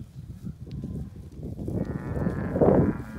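Braford cows in coastal Texas moo alone, a low, drawn-out call that rises and grows louder toward the end, close to the listener.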